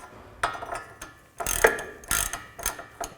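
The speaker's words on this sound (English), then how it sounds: "Now I'm going to use a 18mm socket," A ratchet with an 18mm socket tightens a castle nut on an outer tie rod of a 2011-2014 Chrysler 200, giving several short bursts of close, crisp clicking separated by brief pauses.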